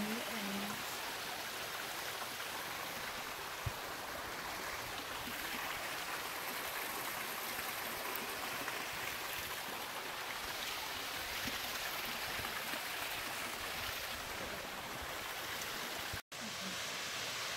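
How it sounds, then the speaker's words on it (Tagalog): Hamilton Falls waterfall on the Emerald trail in Yoho, British Columbia, a constant faint broadband rush of falling water heard from some distance, with a brief click near the end. "Emerald waterfall? Hamilton Falls."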